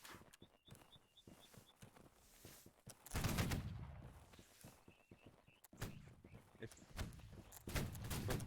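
Reenactment infantry platoon firing muskets: faint distant reports early, then a loud rolling volley of cracks with a rumbling tail, followed by further scattered shots, heard outdoors from a distance.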